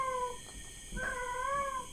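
A pet cat meowing indoors, two drawn-out tonal meows close by, the second rising and longer, with no speech.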